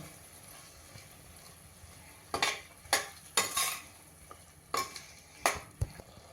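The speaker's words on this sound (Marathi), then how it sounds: "आता हे सगळं मिक्स करूया चांगलं" A spoon stirs sweet set yogurt into a spinach and green pea pulao mixture in a pressure cooker, giving a few scattered scraping, clattering strokes against the pot over quiet background, with a faint sizzle.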